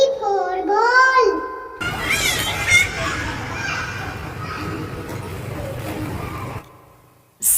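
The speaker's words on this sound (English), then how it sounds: "C for cat." A cat gives a drawn-out meow with rising and falling pitch at the start, then a noisy, busy stretch of background sound follows before a short silence.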